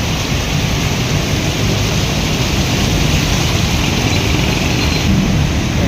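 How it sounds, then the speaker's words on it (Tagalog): Heavy rain pours steadily onto a city street near a footbridge where buses pass, a loud continuous broadband roar with no breaks and no voices. "bumuhos na naman ang ulan"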